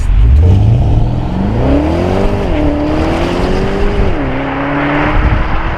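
A Porsche Panamera Turbo (970 generation) engine revs up strongly and holds a loud, rising then steady drone, with gear-like pitch steps as it pulls, close and continuous throughout.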